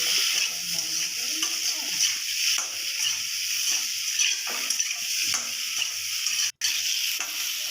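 Ginger paste and spice masala fry and get stirred in a hot pan for an Odia broad bean and cabbage curry, a continuous loud sizzle with a spoon scraping and stirring in repeated strokes close up.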